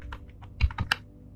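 A few quick, close keystrokes tap out on a computer keyboard in a short, uneven burst, with no talking.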